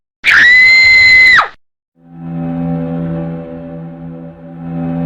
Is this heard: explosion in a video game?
no